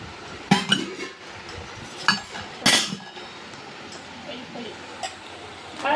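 Heavy glasses and kitchen utensils from a household set clink and clatter now and then, a few sharp metallic chinks among quieter handling noises, with a person talking in between.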